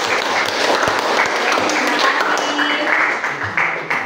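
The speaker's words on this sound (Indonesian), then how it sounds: "Berikan aplaus yang kedua kali" Applause from a classroom of students, dense broadband clapping that runs steadily throughout at moderate loudness, with no one speaking over it.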